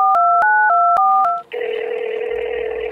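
Telephone keypad dialing: five clear DTMF tone beeps in steady succession, followed after a short gap by a continuous ringback or line tone, close and loud, with no talking.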